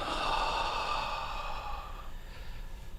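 A slow, deep breath drawn in through the nose and let out through the mouth, soft and close, with a gentle airy hiss that fades over a few seconds in a quiet room.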